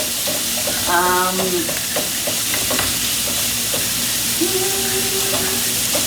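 Bacon frying in a pan as part of a pasta dinner gives a steady, close, dense sizzle throughout, with scattered clicks from stirring and a couple of brief squeaky tones over the hiss.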